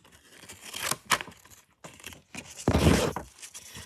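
Scissors cutting through sticker paper, a few short snipping and crinkling bursts with a louder rustling cut near the end, close and quiet, separated by brief silences.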